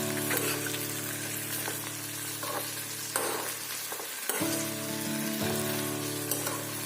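Okra frying in a pan with salt and turmeric over a high gas flame: a steady, loud sizzle with stirring scrapes and a brief dip, no talking.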